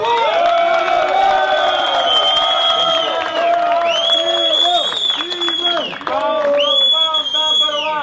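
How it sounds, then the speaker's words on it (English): A crowd at a boxing post-fight press conference for a new undisputed light heavyweight champion cheers and whoops loudly, sustained shouting voices layered over scattered clapping. "I think a huge round of applause for the new undisputed light heavyweight champion of the world, Dmitry Bivol."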